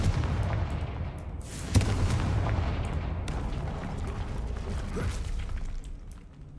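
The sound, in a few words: Confringo fire spell blast in Hogwarts Legacy video game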